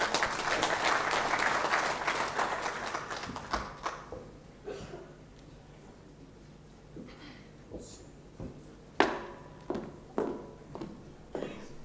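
An audience at a university research week opening ceremony applauds, the clapping loud at first, then fading to scattered individual claps and a few renewed bursts.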